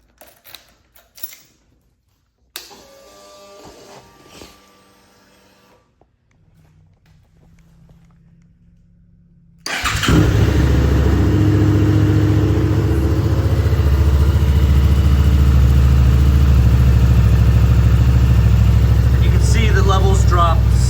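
A Suzuki SV650 motorcycle engine, just refilled with oil, starts after some clicks and handling sounds, then settles into a loud, steady idle held close by for about ten seconds.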